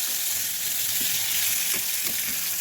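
Sweet pumpkin pieces fry in a pan of oil, giving a dense, steady hiss of sizzling that goes on without a break.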